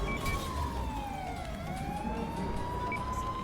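A police siren wails in a GTA roleplay game, its pitch gliding down and then back up in one steady sweep, loud and continuous over a low engine and traffic rumble.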